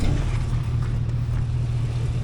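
A 2005 Hummer H2 with an LQ4 V8 pulls away, its engine giving a steady, close, deep rumble with no voices.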